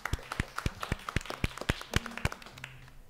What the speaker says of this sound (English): let's welcome her to the stage with a warm round of applause